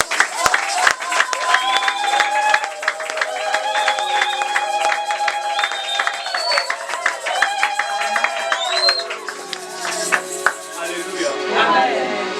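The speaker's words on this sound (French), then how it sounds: "Acclamons pour Jésus" Congregation cheering and applauding during a church service, a sustained wash of crowd noise and clapping mixed with music and voices, steady and loud throughout.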